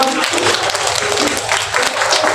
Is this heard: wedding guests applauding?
yes